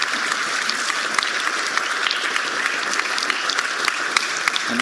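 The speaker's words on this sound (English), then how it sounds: "So a round of applause for their effort and for their continuous implication in this development." Conference audience in an auditorium clapping steadily, a dense, even round of applause that carries on throughout with no break.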